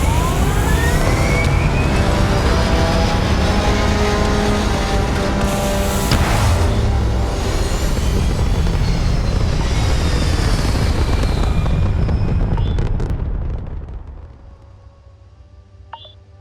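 A spaceship in the Starfield video game lifting off, with engines giving a loud, sustained roar layered with rising tones for about thirteen seconds before fading quickly to a low hum.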